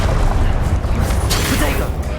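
A Confringo blasting spell going off in a Harry Potter video game, a loud booming burst with crashing noise that fills the whole moment, close and dense.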